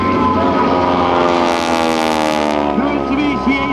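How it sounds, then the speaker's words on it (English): Mitsubishi A6M Zero fighter plane flying at the 2009 Dayton airshow, a loud, sustained piston-engine drone that swells and shifts in pitch as it passes, with a voice talking over it. "The Mitsubishi A6M0, the fastest aircraft in the Pacific Theater at that time."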